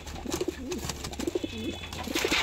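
Kalshira flying-line pigeons coo close by in soft, repeated low throaty rolls, several phrases over a steady background murmur.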